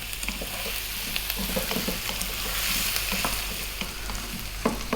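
Ginger garlic paste frying in a pan for aloo methi, a steady close sizzle with scattered scraping clicks of a utensil stirring it around, no voices.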